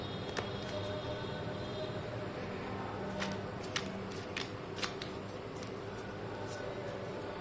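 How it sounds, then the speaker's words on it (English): Soft riffling and flicking of tarot cards being shuffled by hand, with several crisp snaps spaced irregularly over a quiet background. "let me shuffle and see what cards I get"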